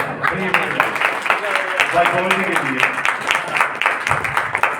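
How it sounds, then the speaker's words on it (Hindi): Scattered group clapping at a Hindi-speaking gathering, irregular claps running under continuous talking from a voice. "चलो ताली"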